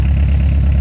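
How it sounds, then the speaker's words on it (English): A 1987 Ford Escort diesel with a Mazda diesel engine idles after a cold start, giving a loud, steady, close low rumble with an even knocking pulse and no voices. "The long-awaited cold start of the 1987 Ford Escort diesel"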